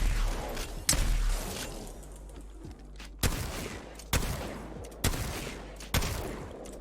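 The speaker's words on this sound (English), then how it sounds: "the PK and the Mastiff, actually shoot about the same speed" In Apex Legends, Peacekeeper and Mastiff shotguns fire six loud, close, booming blasts. The first comes alone, then five follow at a slow, even pace of roughly one per second, each with a short decaying tail.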